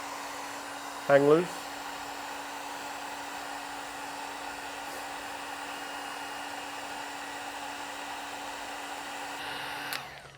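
A heat gun blows hot air steadily onto a Tesla Model 3 Highland emblem to soften its adhesive, a constant close whirring hum that runs the whole time, with a brief spoken phrase near the start.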